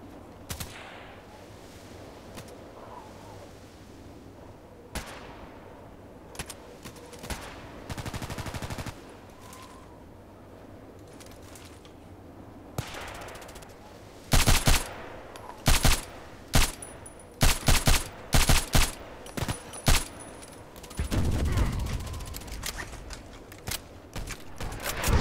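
In-game shots from an EBR marksman rifle crack out in scattered single bursts, then in a fast cluster of sharp, loud reports mixed with other gunfire, with quiet stretches and faint movement sounds between them.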